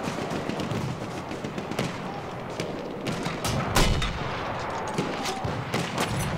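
Mortar and gunfire rumble through a Battlefield 1 multiplayer battle on the Brusilov Keep map. Dense, continuous combat noise is punctuated by repeated sharp blasts and thuds at varying distances.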